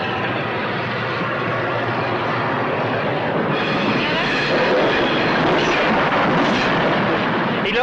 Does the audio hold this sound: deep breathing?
no